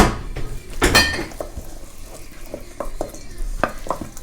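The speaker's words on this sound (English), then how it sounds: "Let's mix." Pasta salad with colourful vegetables, including green paprika, being mixed in a bowl, giving a run of scraping, clinking stirs with a few louder knocks, close and fairly clear with no talk.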